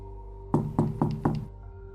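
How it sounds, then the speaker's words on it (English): Four firm knocks on a bathroom door, evenly spaced and close by, followed by quiet with a faint steady hum. "knocked on the bathroom door"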